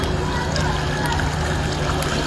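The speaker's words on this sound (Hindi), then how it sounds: "अभी बारिश हो रही है" Rain pours steadily over Karachi in a dense, even hiss of water that holds at one level throughout, with no breaks or distinct drops.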